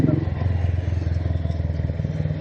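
Motorcycle engine thrumming steadily while riding through Agartala during Durga Puja, a low rhythmic pulsing drone with road clatter and wind, continuous and fairly loud from the rider's position.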